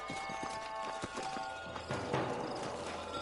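Horses in the Western video game Red Dead Redemption clip-clop steadily along as riders slow to dismount, hoofbeats close and clear over a faint background, with an occasional snort.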